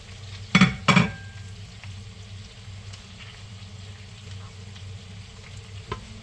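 Chopped cabbage goes into a pan with bacon and settles into a low, steady sizzle. It opens with two sharp clatters as the cabbage is added, then the quiet frying continues alone.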